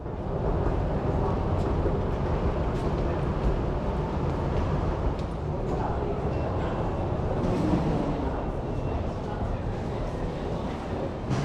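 A Merseyrail Class 777 Metro train at an underground platform, a steady loud rumble of rolling stock and station hum running throughout with a voice talking over it.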